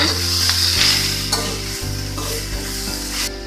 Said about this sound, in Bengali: এখন আমি কুড়ে রাখা নারকেলটা দিয়ে দিচ্ছি নেড়ে দিচ্ছি